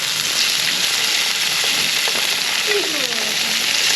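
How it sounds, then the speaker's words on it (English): Food sizzling in a hot frying pan at a campsite on K'gari (Fraser Island), a loud, steady hiss with faint scraping, and no talking. "Sizzle, sizzle."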